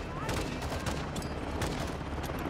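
Gunfire in the Call of Duty: Modern Warfare II shooter, with a rapid burst of sharp shots in uneven clusters over a dense battle din at moderate loudness.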